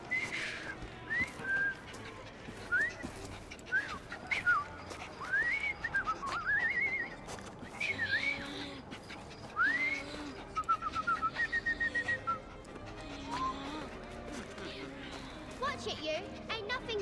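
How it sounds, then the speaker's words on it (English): A man whistling in Assassin's Creed Syndicate, a string of short rising and sliding whistled notes in an uneven tune, fairly close, over a low murmur of background ambience. "I've just learned to whistle."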